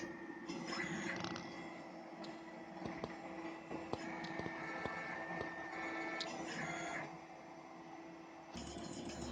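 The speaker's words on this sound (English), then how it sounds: "I wired everything to a simple 5-axis breakout board and stepper drivers and dry run the machine." Stepper motors on a DIY CNC router, driven through a 5-axis breakout board and stepper drivers, whine and buzz steadily through a dry run with no cutting, with brief clicks and tonal shifts as the axes move.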